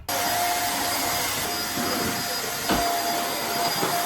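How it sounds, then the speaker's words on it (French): A vacuum cleaner runs steadily, a loud continuous whooshing roar with a faint high whine, no one speaking. "C'est bon, j'ai passé l'aspirateur"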